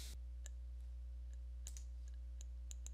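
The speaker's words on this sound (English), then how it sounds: "we're going to go ahead and double click on it" Computer mouse clicks, faint crisp clicks including a quick double click, scattered over a few seconds against a low steady electrical hum.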